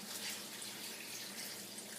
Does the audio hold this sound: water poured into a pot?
yes